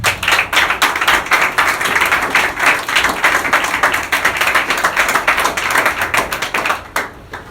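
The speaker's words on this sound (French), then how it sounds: "Est-ce qu'on peut s'asseoir et acclamer très fort pour le Seigneur Jésus?" A church congregation applauds loudly for the Lord Jesus: dense, sustained clapping from many hands in a large group, steady for several seconds before fading out at the end.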